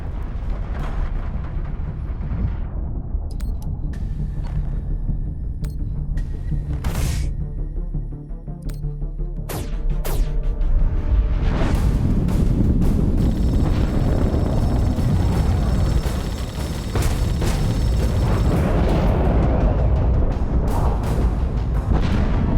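Torpedo launches and explosions in The Expanse video game, with deep rumbling booms and roaring blasts, several sharp bangs around the middle, and a sustained heavy roar later on.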